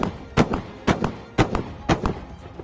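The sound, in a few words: Mk-44 Bushmaster II 30mm automatic cannon firing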